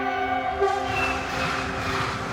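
A train passes roughly ten meters from a house beside the railway in Järsi village, Estonia, with a loud sustained horn tone over a rumbling, rattling roll of wagons close by.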